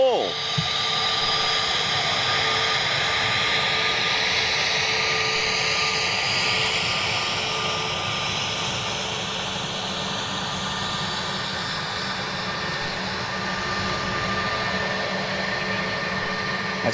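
An Ilyushin IL-76 jet aircraft taxiing nearby, with a loud, continuous engine roar and whine carrying steady tonal hums that shift slowly in pitch across the whole stretch, no talking.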